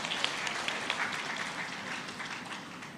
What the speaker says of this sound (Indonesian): Beri tepuk tangan untuk anak-anak kita.